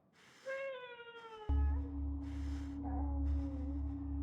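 A cat meows in the horror video game Conarium: a drawn-out rising meow, then a shorter one, over a low, steady ambient drone.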